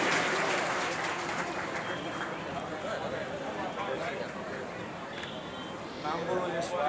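Audience applause at a Shreemad Bhagwat gathering of the Jethva family, a broad wash of clapping that holds steady across the whole stretch, dense and moderately loud with no single voice standing out.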